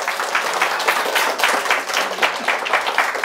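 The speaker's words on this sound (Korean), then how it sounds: "저 박수 받을 줄 알았습니다." Steady applause from an audience at a lecture hall talk on the Sewol ferry disaster, a dense continuous clapping of many hands lasting several seconds, fairly close and even in loudness.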